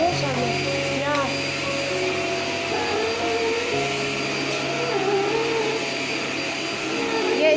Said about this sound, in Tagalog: That's our new vacuum we order in Amazon.